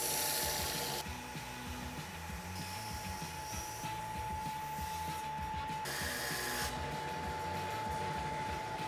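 A power sander shaves small wood pieces for a wood and resin stool seat, giving a steady, fairly quiet mechanical whir with a constant high tone and rough grinding texture as the pieces are pressed on and lifted.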